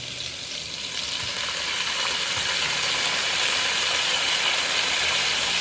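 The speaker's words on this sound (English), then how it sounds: "Look at that sizzle!" Diced tomatoes sizzle in a hot frying pan, a loud, steady crackling hiss that swells slightly and holds constant throughout, close up with no voices.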